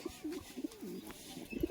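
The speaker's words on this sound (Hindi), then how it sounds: "ये देखो भाई चाचा का लाल जीरा कबूतर है।" A twelve-year-old red jeera pigeon coos softly and close by in a low, repeated rolling pattern of short coos that builds slightly toward the end, with no talking over it.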